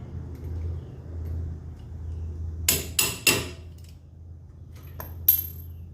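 Metal clanks from a hammer striking a suspension part on a 2016 GMC Colorado during a leveling kit install: three quick blows, then a single later strike, over a low background hum.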